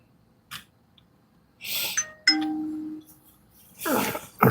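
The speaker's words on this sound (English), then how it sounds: "I just heard a notification." A phone notification chime rings out in a quiet room: a short bright ding followed by a sustained tone, with a few faint knocks and rustles around it.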